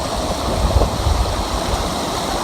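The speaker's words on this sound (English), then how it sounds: "This is the Heber River coming in." The Heber River rushes past close by, a loud, continuous wash of flowing water with low churning and no break in the steady roar.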